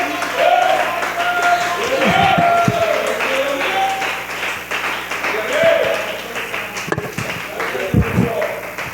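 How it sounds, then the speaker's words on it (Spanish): A church congregation claps during a Spanish-language sermon, the applause rising and falling in waves, mixed with raised voices and a few heavy thumps. "Alguien que pueda darle un aplauso al Señor, alguien que pueda adorarle por un momento."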